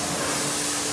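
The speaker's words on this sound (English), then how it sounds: "Then get the pressure washer." A pressure washer blasts dirty car wheels in a steady, loud, broadband hiss that holds unbroken throughout.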